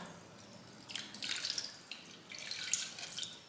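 Water is poured over vinegar-curdled milk to wash out the sourness while making paneer for rasmalai, heard as two soft splashing pours in quick succession, close and fairly quiet.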